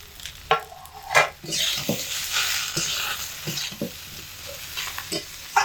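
Shukto vegetables sautéing in a pan, a steady sizzle with repeated scraping stirs and spoon clatters at an irregular pace, close and moderately loud, with no voices.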